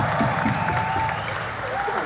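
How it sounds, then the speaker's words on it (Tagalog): A crowd at a live show applauds on request with steady clapping and some cheering, loud and continuous for a couple of seconds. "magpalakpakan tayo lahat. Palakpak na gustong magkasala."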